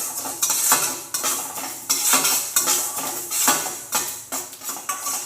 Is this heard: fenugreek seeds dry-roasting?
yes